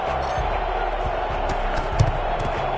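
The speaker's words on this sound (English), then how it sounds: "there's no place for this noise to go in the Superdome. It is loud" Loud, steady roar of a packed home crowd inside the Superdome in a Madden football video game, a dense wash of noise with occasional thumps, as Saints fans await kickoff against the Arizona Cardinals.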